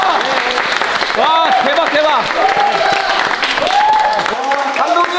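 Audience applause for two team leaders at a legend match, steady clapping throughout with excited voices speaking over it.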